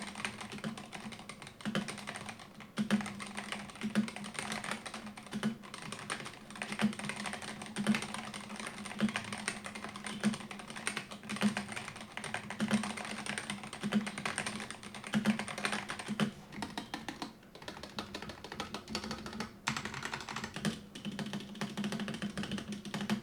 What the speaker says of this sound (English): here's the sound test of the keyboard